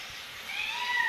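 A single drawn-out meow from a cat, rising and sliding, heard fairly close against a quiet background.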